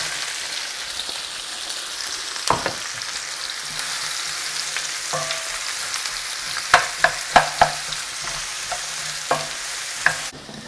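Chili and onions fry in oil in a pan for an onion-tomato pasta sauce, a steady close sizzle with occasional stirring scrapes and a few sharp spatula clicks, heard alone without talk.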